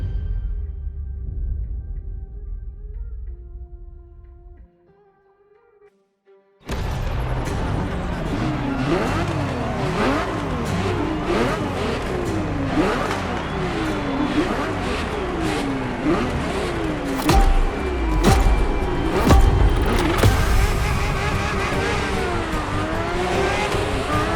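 A Ferrari F50 engine in The Crew Motorfest, first idling low, then after a brief silence roaring through repeated rising and falling revs and gear changes, loud and sustained with tire noise and a voice talking over it.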